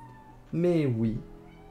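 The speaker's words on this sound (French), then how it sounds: "J'ai une chatte grammairienne, linguiste. Elle parle, miaou." A cat gives a single clear meow, rising then falling over about half a second, close and fairly loud against a quiet room.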